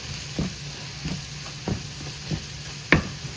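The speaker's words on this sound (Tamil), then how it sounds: "இப்போ எல்லாத்தையும் ஒன்றா சேர்த்து கிளறுவோம்" Idiyappam noodles tossed with egg, carrot and leeks in a pan give a soft sizzle under a few distinct spatula scrapes and taps, the last one loudest.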